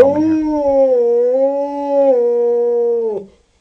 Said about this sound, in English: we've never ever had a wolf walk into a TV set and start howling on the camera